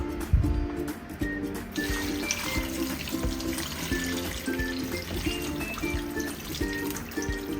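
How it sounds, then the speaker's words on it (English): Chicken stock is poured into a pot of Irish and sweet potatoes, making a steady liquid stream that runs for several seconds, close by, with faint background music underneath. "So we're gonna be pouring in our chicken stock."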